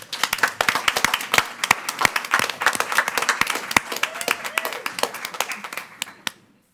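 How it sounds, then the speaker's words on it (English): A round of applause at a school board meeting, a small crowd clapping crisply and irregularly for several seconds before tapering off into silence. "give them a round of applause, everybody"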